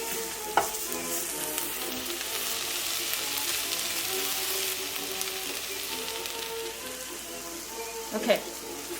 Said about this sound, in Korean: 애들이 지글지글 소리가 나서